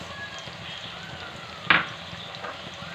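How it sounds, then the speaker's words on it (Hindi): A tomato mixture with salt, red chili, black pepper and soy sauce simmers and sizzles softly in a pan, a steady low crackle with one sharp clink of a utensil partway through. "इन सब चीज़ों को अच्छे से मिक्स करके 2 मिनट के लिए पका लेते हैं"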